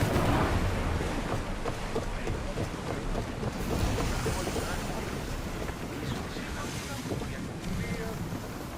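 Sailing ship under way in Assassin's Creed Odyssey, a steady wash of wind and sea spray rushing against the hull, loud and continuous with broadband water noise throughout.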